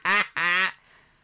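Two loud, close, nasal duck quacks in quick succession from the Gibraltar duck emote, followed by a faint fading tail.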